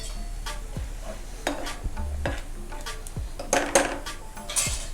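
Asafoetida going into onions sizzling in hot oil for rajma masala: a close, steady sizzle with repeated spoon scrapes and light clinks against the pan, plus a low hum underneath.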